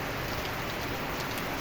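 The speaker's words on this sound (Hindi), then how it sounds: "वाह क्या शानदार बरसात चल रही है कंटिन्यू 3 घंटों से बारिश।" Heavy, continuous rain that has been pouring for about three hours, a dense, steady hiss of drops hitting surfaces up close, with no pauses and no voices.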